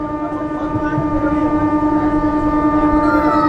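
An inaugural train runs toward Maynapur from Jairambati, Bankura, sounding a loud, steady, sustained horn-like tone that holds throughout, with a rumbling background underneath.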